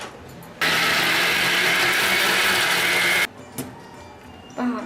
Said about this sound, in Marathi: मिक्सरमध्ये हे सर्व आपण एकत्र करून घेतलेलं आहे.